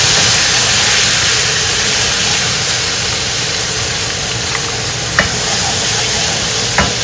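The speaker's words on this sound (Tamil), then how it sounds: "நம்ம அரைச்சி வச்சிருக்கிற இந்த வெங்காயம் தக்காளி இஞ்சி பூண்டு மிளகா பேஸ்ட்டை வந்து எண்ணெயில் ஆட் பண்ணுறோம்" A ground paste of onion, tomato, ginger, garlic and chili sizzles loudly in hot oil, a dense and steady frying hiss up close with a few sharp spatters and stirring knocks.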